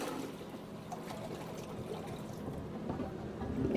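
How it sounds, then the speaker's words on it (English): Water poured from a bucket into a toilet to flush it in a run-down house with a corroded faucet and rotted floors, a faint steady splashing gush that swells slightly toward the end. "and that's how you flush the toilet."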